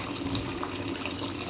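Water runs steadily from a pipe at a village well, a continuous rushing, splashing hiss with no voices over it.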